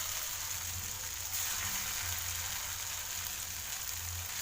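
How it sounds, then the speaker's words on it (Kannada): Snacks deep frying in hot oil, a steady, faint, hissing sizzle with a fine crackle that continues evenly throughout with no talking. "ಇವಾಗ ಡೀಪ್ ಫ್ರೈ ಮಾಡಬೇಕು."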